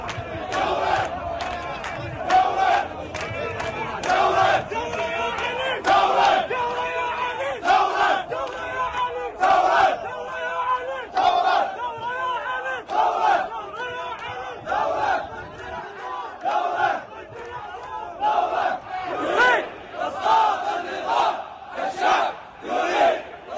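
Protest crowd in Al-Nusoor Square, Baghdad, chanting in loud rhythmic unison, repeated short shouted phrases with steady beats, continuous for over twenty seconds at close range.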